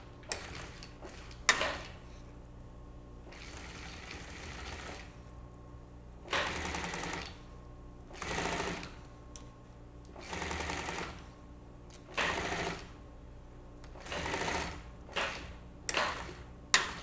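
An industrial sewing machine stitches a continuous zipper onto a convertible top, running in repeated bursts of rapid mechanical chatter separated by short pauses, close and fairly loud, with a few sharp clicks.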